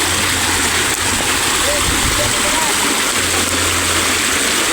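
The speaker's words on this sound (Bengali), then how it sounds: "আর সিঁড়ি থেকে জলটা নামছে" Floodwater pouring down a flight of steps, a constant loud rushing and splashing wash that fills the whole scene, with a voice talking over it briefly.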